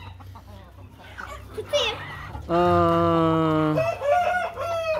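A young rooster clucks and gives a long, loud crowing call up close, with a person speaking briefly before it.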